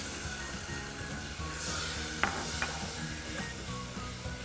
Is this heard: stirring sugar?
yes